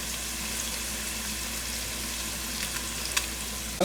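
Cardamom, cloves and cinnamon fry in hot oil for a Jaffna-style mutton curry, giving a steady, even sizzle and hiss throughout, with a couple of faint clinks near the end.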